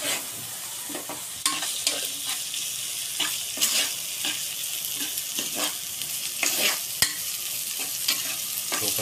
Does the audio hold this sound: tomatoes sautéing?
yes